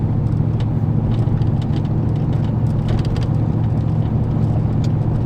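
A truck drives a rough, bumpy road, giving a steady close engine rumble with scattered rattles and knocks and no voices.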